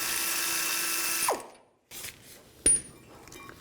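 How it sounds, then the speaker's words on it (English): A ratchet turns an 18mm socket on the rear brake bracket bolts of a 1992-or-later Ford E-250 van. A steady mechanical whir breaks off into silence, then a few sharp metallic clicks and a clank follow, close by. "Now take these two bolts out. Use a 18mm socket."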